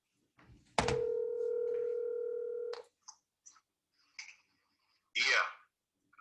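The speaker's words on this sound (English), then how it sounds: "I'm gonna call you on your phone." A telephone call being placed: a steady dial tone holds for about two seconds, then a few soft clicks and a brief rushing burst near the end.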